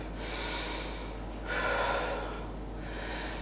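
Breathing during a babywearing dumbbell workout: a slow breath in through the nose, then a long breathy exhale out through the mouth, soft and close, repeating twice over quiet room tone.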